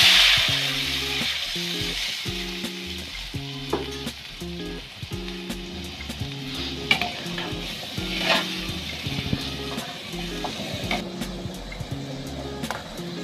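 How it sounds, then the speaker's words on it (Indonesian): Honey lemon sauce sizzles and fries in a pan while being stirred, a steady close hiss with occasional scraping under background music, no talk. "kita masak sos dia"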